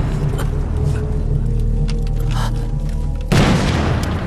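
Artillery booms and shellfire roll through a battle scene in a Chinese anti-Japanese war film. A steady low rumble builds to a sudden heavy blast near the end, with no talking.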